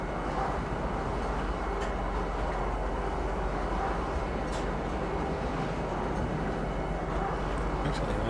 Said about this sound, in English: let's while we're on the train